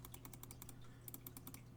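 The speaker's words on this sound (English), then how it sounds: "You can hear me clicking." Rapid light clicks come in two quick bursts, close and quiet, like fingers tapping keys and a mouse.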